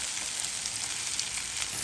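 Tomatoes frying in hot oil with onions for a Bangladeshi prawn bhuna, a steady close-up sizzle of crackling spatter with no pauses and no voices.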